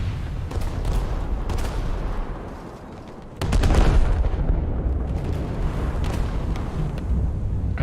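Naval gun turrets on a Japanese warship fire shells in a naval combat video game, a dense run of booming blasts and rumble that swells suddenly louder midway and carries on without speech.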